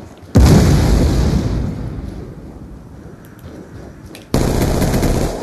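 Video game gunfire erupts in two loud bursts of rapid automatic shots, separated by a quieter stretch of ambient rumble and scattered faint pops before the second volley kicks in.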